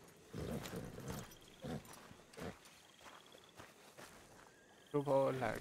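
A horse walks in the video game Red Dead Redemption RP, with soft, uneven hoof clops among quiet ambient insect chirps, and a voice briefly breaks in near the end.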